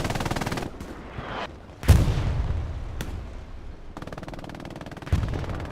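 Gunfire rattles in the Hell Let Loose video game, a German Panzer IV's machine gun shooting over stone walls and a cemetery, with sharp bursts, a loud crack near two seconds and steady background roar.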